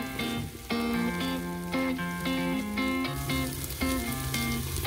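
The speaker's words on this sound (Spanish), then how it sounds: "Ya como chille ese ribeye" A ribeye steak sears on a Green Egg grill with garlic, butter and rosemary, its steady crackling sizzle running continuously under prominent tonal background music.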